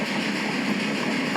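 A train rolls along the tracks in the video game Railway Empire 2, heading toward a tunnel. It gives a continuous rumbling rail noise with a faint clickety-clack, steady and fairly loud, with no voices.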